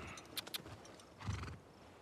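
A horse in the video game The Last of Us Part II snorts and neighs briefly, with a couple of light hoof clicks, fairly quiet against a soft background.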